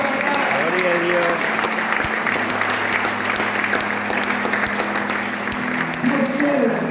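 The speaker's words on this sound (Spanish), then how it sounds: "Dale un aplauso al que vive en esta mañana" Church congregation applauding during a Spanish-language sermon, with a steady, dense wall of clapping that lasts throughout, along with a low hum and some brief voices near the end.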